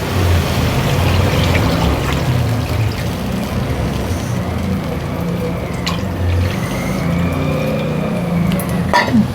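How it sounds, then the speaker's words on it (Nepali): Spice-ground water for curry pours into a pan with a sustained watery rush and low gurgle, a faint clink or two near the end. "यसमा अब म झोल हाल्छु।"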